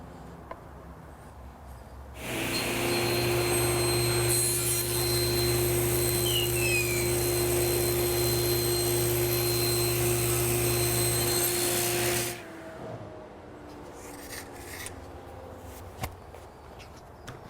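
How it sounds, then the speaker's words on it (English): A table saw rips wood into thin strips for bending laminates, the motor spinning up with a loud, steady whine for about ten seconds of cutting, then winding down into faint clicks and handling noise. "I get a nice cut on the table saw"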